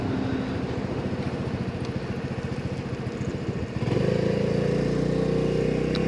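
A 2022 Honda Navi motorcycle engine putters in a fast, even chug while riding through Louisville, Kentucky, then shifts near the four-second mark into a louder, smoother steady drone, close and constant.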